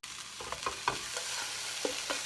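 Potatoes fry in a frying pan with a soft continuous sizzle, broken by light crackles and scraping stirs, heard fairly quietly and alone.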